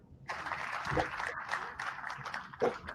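Audience applause at a property management summit in Minnesota, a short burst of clapping with some voices mixed in, fairly close and moderately loud.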